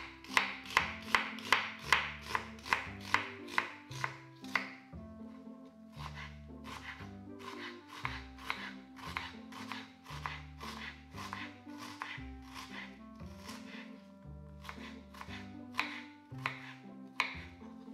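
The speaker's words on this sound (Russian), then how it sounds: "Также мелко нарезаем красную луковицу." Rapid, crisp knife strikes on a cutting board, finely chopping a red onion in quick bursts of steady rhythm with short pauses between runs.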